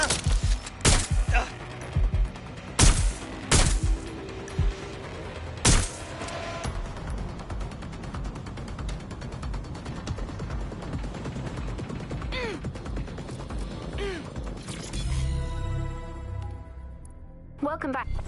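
Bursts of gunfire ring out in the video game Watch Dogs: Legion, several loud sharp shots early on, then a dense clatter of combat sounds under in-game shouting.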